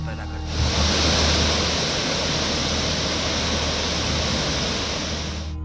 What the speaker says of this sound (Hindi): पहाड़ों से गिरते झरने और महाकाली नदी दिल में दहशत पैदा करती है